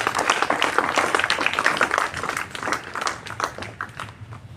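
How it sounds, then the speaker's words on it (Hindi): An audience claps for a student's Uttar Pradesh Sainik School class 6 and 9 entrance result, uneven bursts of hand claps at moderate loudness that swell and thin out, carrying on without any talk over them. "ओमवीर के लिए जरा एक बार एक्स्ट्रा ताली बजाइए फिर से"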